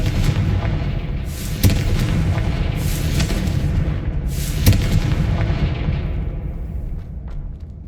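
Fiery explosion spell cast in the Hogwarts Legacy video game, heard as a steady rumbling roar with two sharp booming blasts standing out, fading toward the end.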